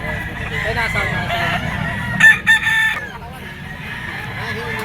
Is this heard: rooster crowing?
yes